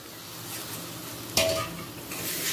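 A spatula stirs food in a wok, soft scraping under a low sizzle with one sharper metallic clack midway; no one speaks.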